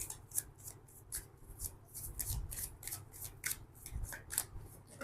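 Oracle cards are shuffled by hand at close range, a rhythmic series of crisp slaps and swishes repeating steadily for about five seconds with no voice over them.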